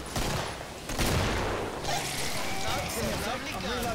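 A grenade launcher fires and its rounds explode in the co-op shooter game Killing Floor, a dense run of loud, rumbling blasts and booms filling the whole few seconds amid other game noise.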